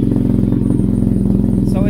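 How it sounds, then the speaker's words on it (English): A BMW R90 boxer motorcycle fitted with a full titanium exhaust from headers to muffler idles and revs with a deep, steady low throb, loud and close, with a faint voice briefly audible near the end. "So it's still unmistakably boxer R90 note, but it's a deeper sound."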